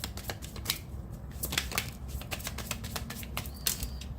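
Rapid, crisp riffling of tarot cards repeats in quick bursts, close and fairly quiet, with no voices.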